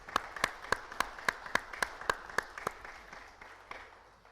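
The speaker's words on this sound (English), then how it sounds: "So let's give them a round of applause." An audience claps for long-serving employees at a board of directors' quarterly meeting, a sparse round of distinct claps in steady rhythm that thins out and fades over a few seconds.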